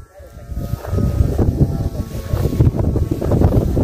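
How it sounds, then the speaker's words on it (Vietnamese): Wind gusts roar steadily, and a low, airy humming drone runs through the noise from flutes on a large kite sounding as the air moves, in Thanh Oai, Vietnam. "Tiếng sáo gặp gió nó vu vu vu vu,"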